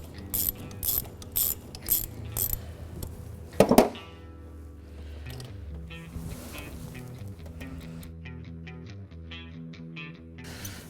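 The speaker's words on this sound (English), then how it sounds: "take the nut off the negative post on the coil" A hand ratchet loosens the nut on the negative post of an ignition coil during a Holley Sniper EFI install on a Bronco, giving several quick bursts of crisp clicking close by before a steadier mechanical background takes over.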